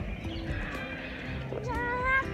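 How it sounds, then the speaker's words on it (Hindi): A small-breed horse in a lakeside park in Islamabad whinnies, the call rising near the end, mixed with hoof clops and general outdoor crowd noise and talk. "ये हॉर्स है ना, घोड़ा"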